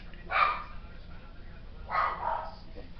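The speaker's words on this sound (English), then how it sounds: "Well, dog's barking at something." A dog barks twice, separated by a pause, sounding somewhat distant and muffled over a quiet background.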